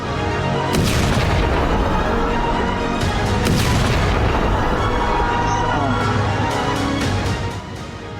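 Iranian missiles striking Israeli cities such as Tel Aviv, Jerusalem and Beersheba in wartime, heard as a loud continuous roar of blasts and rumbling booms with sharp bursts throughout, over constant heavy background noise.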